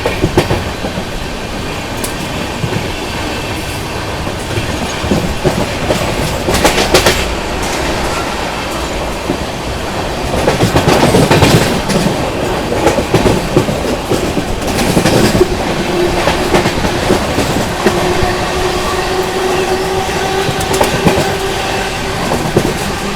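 The 22222 Rajdhani Express running from Hazrat Nizamuddin to Mumbai, heard from inside a First AC coach as a loud, continuous rumble with rhythmic clickety-clack and occasional squeals from the wheels.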